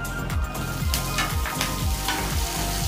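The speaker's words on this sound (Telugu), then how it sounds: "సో ఇప్పుడు ఈ ఆనియన్స్ అనేవి ఇట్లా ఫ్రై అయిపోయినాయి" Onions sizzle steadily in a hot pan with green chillies and curry leaves, a dense continuous frying hiss with soft scraping stirs and low clatter running throughout, close and fairly loud.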